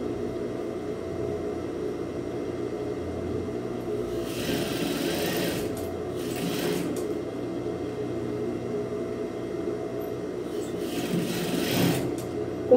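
A home sewing machine backstitches along a dish towel in a few short bursts of stitching, separated by quieter pauses over a steady low hum.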